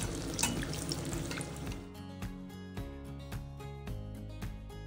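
Green chilli mirchi vadas dipped in besan batter sizzle in hot oil, a steady bubbling frying hiss that rises loudly at first then settles into a softer continuous crackle.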